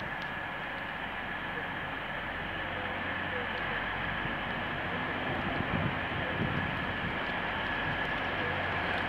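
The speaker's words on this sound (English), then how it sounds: "London to Hull train." A British Rail Class 180 diesel passenger train rumbles past Lincoln Central station continuously, a broad steady roar with a faint high whine, loud and unbroken throughout, with some wind buffeting the microphone.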